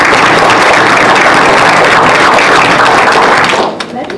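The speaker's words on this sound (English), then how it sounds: "Let's give her another round of applause." A school board meeting audience gives a loud, dense round of applause, sustained for several seconds before tapering off abruptly at the end.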